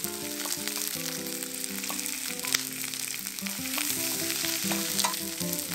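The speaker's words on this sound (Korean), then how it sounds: "표고버섯 넣고 볶아주세요." Shiitake mushrooms stir-fry in oil in a pan over medium heat with onion and garlic, giving a steady close sizzle with occasional stirring scrapes and no talk.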